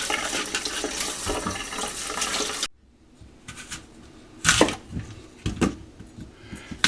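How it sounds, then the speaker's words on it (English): Apples being rinsed under cool running tap water in a home kitchen while making applesauce; a steady loud gush of water runs for a few seconds, stops, then returns as intermittent splashes and bursts. "give the apples a rinsing under cool running water"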